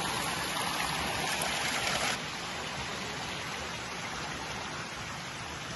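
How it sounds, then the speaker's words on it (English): Water pours steadily from many stone fountains set around a walled courtyard in L'Aquila, Abruzzo, a dense continuous splashing hiss that is louder for the first two seconds and then settles, with no voices. "There's fountains everywhere and surrounded by this wall."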